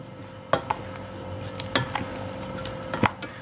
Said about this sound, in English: I'm just using a scraper here, a bowl scraper.